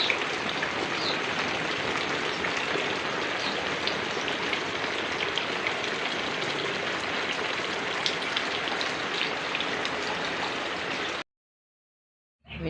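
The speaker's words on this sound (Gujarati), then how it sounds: "વરસાદ બહુ ચડીને આવી ગયો છે અને હજી પડશે ખૂબ" Heavy rain pours down in a dense, unbroken roar of drops hitting surfaces, loud and close, then cuts off abruptly near the end.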